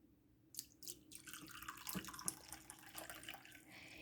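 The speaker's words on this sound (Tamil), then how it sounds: "அதுக்கப்புறம் 1 கப் தண்ணி ஊற்றணும்." Water splashes and trickles steadily as one cup is poured over almond gum in a container, with faint clinks throughout.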